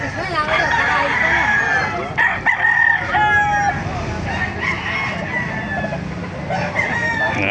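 Chickens and roosters at a roadside lot in Baliuag, Bulacan, with overlapping crows and clucks, some near and some farther off, over constant outdoor background noise and voices.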